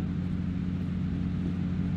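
A loud car engine drones steadily at a low pitch in the Police Simulator video game, a continuous close rumble with no pauses or talk.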